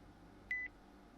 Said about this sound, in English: you hear your intercom kind of beeping